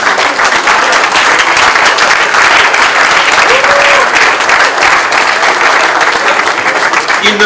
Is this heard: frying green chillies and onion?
no